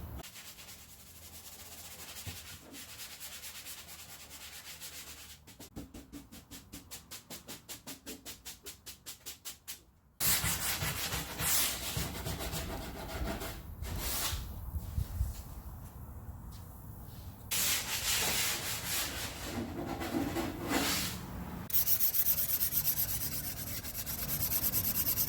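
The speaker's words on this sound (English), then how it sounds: "Now that we have it sanded down" Hand sanding along the edges and corners of a wooden door, close scratchy rubbing strokes that start quiet, turn into rapid rhythmic passes, then grow louder in longer sweeps.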